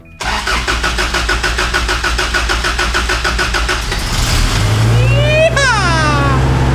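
A 1981 Toyota pickup engine cranks on a cold morning with a loud, steady rhythmic churning for about four seconds, then catches and settles into a rough, rumbling idle while a voice briefly rises over it.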